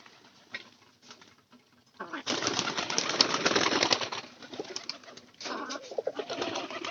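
A visiting pigeon arrives among resident birds. Faint coos come first, then a loud rush of wing flapping and scuffling nearby, which fades and returns in bursts.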